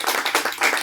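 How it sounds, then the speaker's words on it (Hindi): A brief burst of audience clapping at a book release event, close and fairly dense for under a second. "आप सब खूब जोरदार तालियां बजाकर"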